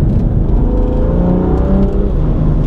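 A BMW M2 Competition engine revs loud and close after a downshift to second gear, with a continuous rising engine drone and no talk.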